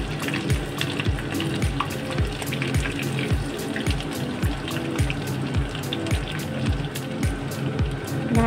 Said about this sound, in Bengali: টিকিয়া পুরো সম্পূর্ণ ঘিয়েই ভাজতে হবে